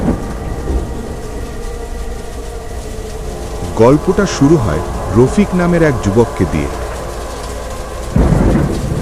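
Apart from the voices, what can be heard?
rain and thunder sound effect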